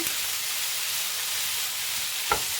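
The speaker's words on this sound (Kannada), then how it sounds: "ಈ ರೀತಿ ಎಲ್ಲದನ್ನು ಚೆನ್ನಾಗಿ ಫ್ರೈ ಮಾಡ್ಕೋಬೇಕು" Tomato and onion masala for a mushroom egg curry fries in a pan with a steady, even sizzle and hiss, with one brief click near the end and no talking.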